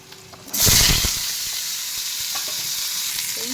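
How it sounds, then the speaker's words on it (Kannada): Onion, ginger, garlic, cinnamon, cloves, cashews, tomato and green chillies hit hot oil for tempering, bursting into a loud sizzle after a half-second of quiet, then settling into a steady frying hiss with occasional stirring clatter. "ಈರುಳ್ಳಿ, ಶುಂಠಿ, ಬೆಳ್ಳುಳ್ಳಿ, ಚಕ್ಕೆ, ಲವಂಗ, ಸ್ವಲ್ಪ ಗೋಡಂಬಿ 4, ಸ್ವಲ್ಪ ಟೊಮೊಟೊ, ಹಸಿಮೆಣಸಿನ್ಕಾಯಿ ಇಷ್ಟನ್ನು ಒಗ್ಗರಣೆಗೆ ಹಾಕ್ಕೊತೀನಿ"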